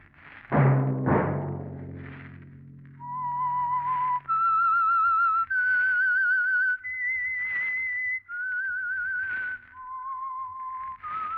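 The whistled theme of the 1947 radio drama The Whistler: a slow, wavering melody of sustained notes, opened by two deep resonant chimes that ring out and fade.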